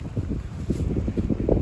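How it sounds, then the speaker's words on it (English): Steady wind buffets the microphone with a low, rumbling roar that swells and dips throughout, loud and close, with no voices. "I'm sorry it's windy."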